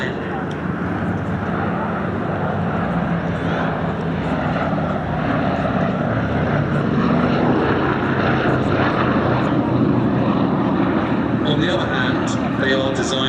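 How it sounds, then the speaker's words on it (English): Wartime B-17 bomber making its final airshow pass, its piston engines giving a steady, loud broadband roar that swells slightly toward the end, with a commentator talking over it throughout. "B-17 commencing last pass"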